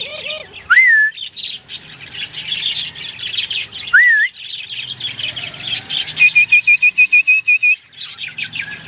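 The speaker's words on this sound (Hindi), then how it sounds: "बुलबुल जो है बड़ी प्यारी प्यारी आवाज़ें निकाल रही है" A red-vented bulbul, kept as a hand-tame pet, gives bright whistled calls and chirps up close, with a quick run of repeated short notes near the end and brief gaps between phrases.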